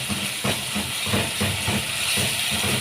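Tomato sauce sizzling with garlic in a pan while it is sautéed for an Egyptian moussaka-and-pasta dish: a steady, close, bright hiss with soft rhythmic stirring pulses underneath, and no talk.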